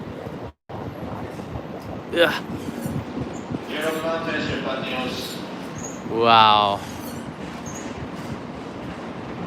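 A Shinkansen bullet train rushes past at Nagoya Station with loud, sweeping whooshes and rail noise over a steady background roar. Short exclamations from a nearby voice can be heard.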